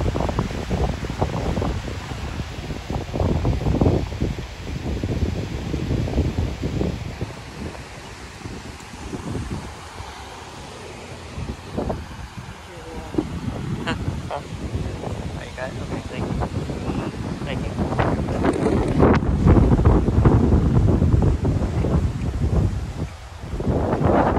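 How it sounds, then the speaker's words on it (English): Strong gusting wind buffets the microphone outdoors at a riverside memorial walk, a constant loud roar that swells and fades for the whole stretch, with a person talking faintly underneath. "Wind's whipping today, as you can see."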